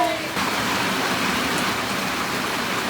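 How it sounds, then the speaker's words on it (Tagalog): Steady rain falling in España, a dense, even hiss that fills the whole stretch without a break, fairly loud and close. "It's raining in España."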